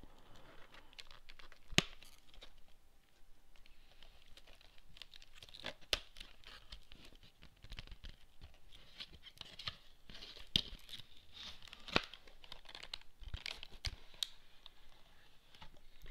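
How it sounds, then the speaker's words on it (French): Packaging of a LEGO Star Wars PS3 collector's edition being opened: quiet, close crinkling and tearing of cardboard and plastic with scattered sharp clicks and snaps, no talking. "Donc ensuite nous allons ouvrir le collector."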